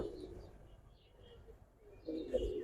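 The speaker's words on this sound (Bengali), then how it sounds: "নর কবুতরটা" A male pigeon coos softly nearby, a low murmuring call that fades in the middle and swells again toward the end, faint against a quiet background.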